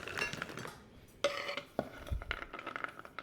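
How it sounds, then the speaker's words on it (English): Macadamia nuts being measured into a measuring cup in a home kitchen, a few light clinks and rattles of nuts against the cup and dishes, close and fairly quiet. "I'm going to measure out 1 cup of macadamia nuts."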